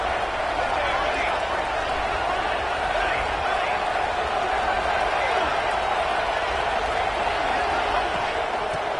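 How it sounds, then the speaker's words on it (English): A big crowd at an NC State versus Auburn college football game roars steadily, a dense wall of cheering and noise with a commentator talking over it. "this big crowd doing everything possible to inspire this defense down here near the goal line"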